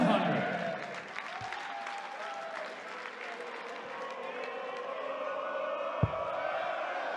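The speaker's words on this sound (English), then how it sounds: "the crowd aren't going to let up at all" Noisy arena crowd at a PDC European Darts Open match, a steady roar of chatter and cheering with scattered claps and a couple of sharp thuds, loud and continuous throughout.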